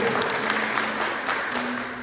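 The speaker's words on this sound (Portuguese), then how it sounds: "Aplauda mais uma vez a palavra poderosa do Senhor." A church congregation applauds in a steady, dense wash of clapping that fills the whole stretch at fairly close range, with a low sustained tone running beneath it.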